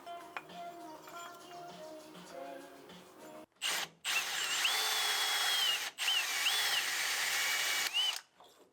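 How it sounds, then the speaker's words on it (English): A hole saw cuts out a weld, grinding loudly in long steady bursts with a few short pauses between passes, following a quieter stretch of background noise. "Hopefully I can just hole saw this weld out of here"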